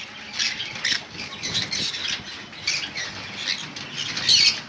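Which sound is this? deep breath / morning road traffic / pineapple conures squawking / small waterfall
pineapple conures squawking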